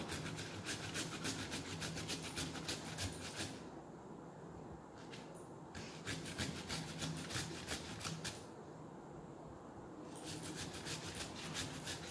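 Ginger root being scrubbed, a dense, rhythmic rasping rub in quick repeated strokes that pauses briefly twice before resuming, fairly quiet and close.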